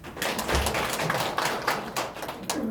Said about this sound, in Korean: 박수 좀 해주시죠